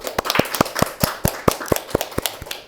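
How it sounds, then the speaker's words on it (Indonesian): Claps ring out for Cerlang on an Indonesian school podcast, a small group clapping in an even, sharp rhythm, close and fairly loud without talk. "Kita kasih tepuk tangan dulu deh buat Cerlang."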